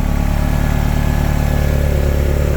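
A turbocharged Toyota MR2 engine idling steadily at 1,000 RPM, loud and up close, with a constant low rumbling throb that never changes pitch.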